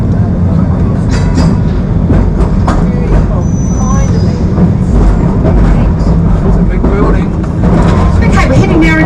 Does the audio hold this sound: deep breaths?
no